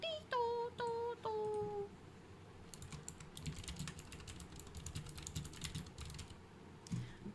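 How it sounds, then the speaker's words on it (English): Someone types on a computer keyboard in a steady patter of close, light keystrokes. A few sustained tones come first, with faint background noise. "Typing it down before I forget stuff I wanted to do, create."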